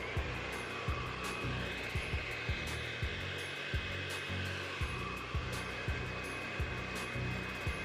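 A blow dryer with a comb attachment drying glue on a wig gives off a steady, close airy whoosh, broken by regular soft thumps. No one speaks.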